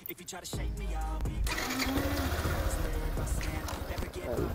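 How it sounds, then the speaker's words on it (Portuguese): A Yamaha Factor 150 motorcycle engine starts and revs with a rough, throbbing low drone that rises in intensity, close by, with people talking over it. "vai mostrar o ronco dessa moto"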